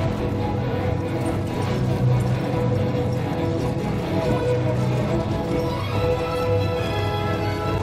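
In the video game Battlefield, a horse clip-clops with steady hoofbeats and lets out whinnying neighs amid busy game noise, the hooves close and fairly loud.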